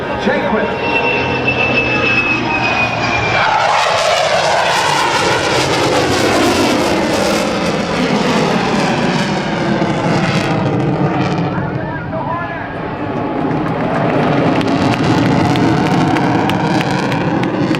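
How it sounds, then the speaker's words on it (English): An F/A-18C Hornet jet flies a pitch rate demonstration at an airshow, its loud, continuous engine roar sweeping and shifting in pitch as it pulls up, with a public-address announcer talking over it. "Here comes the pitch rate demo, Lieutenant Brent Jaquith."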